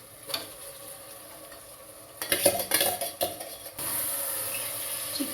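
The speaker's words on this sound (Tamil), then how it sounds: "சிக்கன் போட்டுட்டு மிக்ஸ் பண்ணும்போது ஜென்டலாக மிக்ஸ் பண்ணுங்கள்" Marinated chicken coated in yogurt, salt and chicken masala is stirred gently in a pot for chicken biryani, with soft sizzling, then a burst of clattering spoon-on-metal scrapes before a steady hiss returns.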